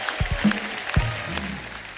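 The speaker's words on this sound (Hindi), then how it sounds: "जोरदार तालियां हो जाए हमारे चारों मेहमानों के लिए" A studio audience at a comedy talk show claps for four guests in a short burst of applause mixed with a few sharp, close hits and some background tones.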